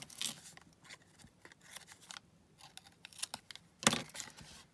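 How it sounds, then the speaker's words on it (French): Scissors snip small paper strips at an angle for a junk journal, giving quiet, close, irregular clicks and crisp cuts, with one sharper snip near the end. "je coupe les petites bandes là-haut en biseau"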